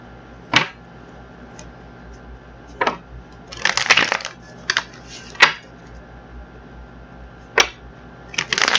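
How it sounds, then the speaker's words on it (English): Tarot cards are shuffled and tapped in sporadic bursts, with short riffles and sharp clicks separated by quiet pauses. "we're going to get these cards together and shuffled up,"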